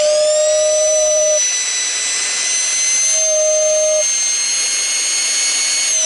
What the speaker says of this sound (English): That's the bottom whistle.